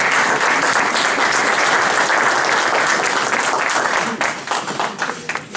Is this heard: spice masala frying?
no